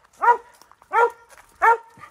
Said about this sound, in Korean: 짖지 마라.